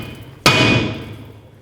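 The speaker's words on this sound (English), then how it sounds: "you want to hammer it here in between the studs" A single sharp hammer blow strikes a seized rear brake drum between the wheel studs on a 2007 Chevy Silverado Classic, giving a loud metallic clang that rings and slowly decays.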